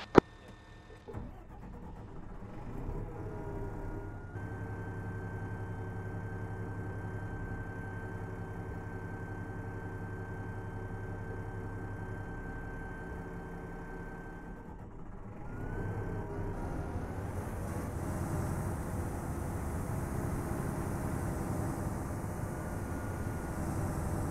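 A video-game APC armored vehicle engine starts up and idles with a steady low rumble and a faint whine, then swells to a louder, rougher drive in the final stretch.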